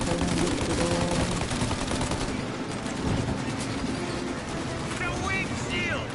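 Gunshots in a Mafia crime game ring out as a gun fires at a car's armored windshield, a dense, steady volley up close that fades toward the end, with someone talking over it.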